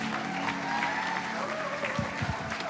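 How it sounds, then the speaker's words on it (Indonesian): Church congregation clapping, a broad steady wash of applause with a few louder claps near the end, mixed with background voices and a low hum. "Berikan tepuk tangan buat mereka di sini."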